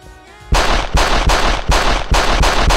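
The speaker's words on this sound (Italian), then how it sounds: "sparo un colpo in aria per farvi vedere che spara veramente" A pistol fires into the air in a rapid string of about six sharp, loud shots in quick succession, with no voices.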